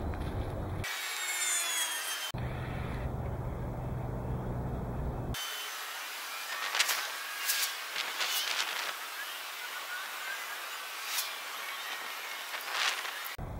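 Pallet wrap stretch film pulled and wound around a stick outdoors, giving crinkling, rubbing and stretching sounds in uneven bursts, with abrupt changes partway through.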